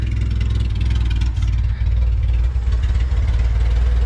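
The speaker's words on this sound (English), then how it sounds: "It's idling super low." Junkyard-assembled LS-VTEC engine in a car idles low and steady close by, a deep, even rumble with slight rhythmic pulsing and no talking.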